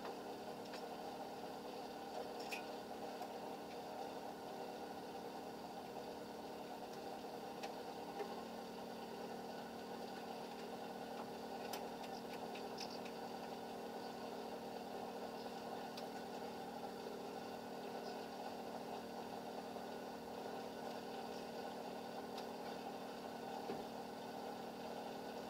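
A Peugeot 605 engine idles after a fuel pump repair, a faint, steady mechanical hum with light ticking that stays even throughout and has no voices over it.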